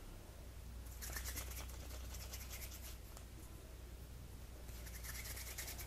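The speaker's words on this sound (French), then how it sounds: "on va prendre une petite boule de pâte fimo, donc on va commencer par la mélanger afin qu'elle devienne molle" A small ball of Fimo polymer clay being kneaded and worked by hand until soft, giving quiet close rubbing and squishing in soft bursts over a faint steady background hum.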